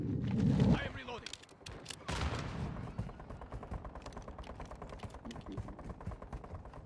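Rapid gunfire from a Call of Duty match crackles through a busy mix, loudest early on with a dense burst, then continuing as lighter repeated shots under game noise.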